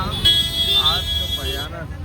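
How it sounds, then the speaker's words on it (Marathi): Heavy road traffic near a Ganesh temple in Titwala: a steady vehicle rumble with a horn-like tone partway through, heard under someone talking throughout. "जोरान ट्रॅफिक आहे"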